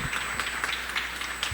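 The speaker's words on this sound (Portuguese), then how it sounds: "Você pode aplaudir a vida, aleluia." Church congregation applauding during a worship service, a steady wash of clapping from many hands without pause, no voices on top.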